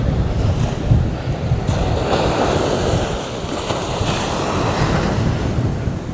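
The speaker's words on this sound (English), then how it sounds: "it will be a little bit windy" Wind and ocean waves on Eagle Beach, a steady wash of surf under gusty wind noise striking the microphone, moderately loud and unbroken with no voices.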